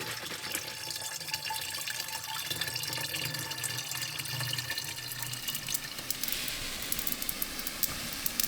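An airless sprayer applies a single-coat floor coating as an epoxy alternative, giving a steady hiss of spray throughout, with a busier, brighter hiss toward the end and no talk.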